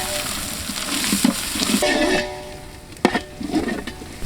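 Ginger garlic paste sizzling and frying in a pan for a chicken kurma, with steady hissing and occasional stirring scrapes, close and moderately loud, no talking.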